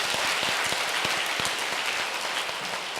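A church congregation at an early-morning revival service applauds steadily, many hands clapping in a dense, continuous wash of sound that holds for a few seconds.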